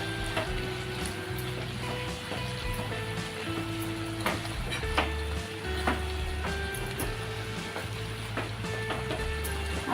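Mixed vegetables with taro, jaggery and amchur powder sizzle gently in a pan for traditional Maharashtrian panchsas bhaji, while a spoon stirs with repeated scraping and clinking taps against the pan.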